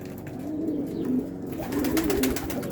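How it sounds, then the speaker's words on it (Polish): A pigeon cooing in soft, repeated low rolls, close by, against a steady background hiss. "To jest ten gołąb."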